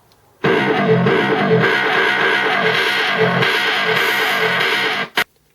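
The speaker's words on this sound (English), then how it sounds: "you got fuzz, which will give you some pretty dramatic distorted changes" A heavily fuzzed, distorted guitar-like loop from a Boss SP-505 sampler's fuzz effect plays steadily for about five seconds, buzzing and thick, then cuts off with a short click.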